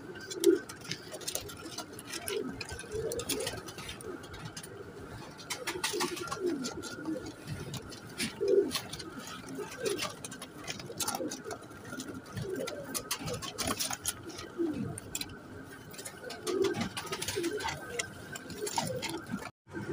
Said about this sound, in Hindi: ये रायल टाडियों में से बने हुए कबूतर हैं, रायल टाडी कबूतर हैं ये दोस्तों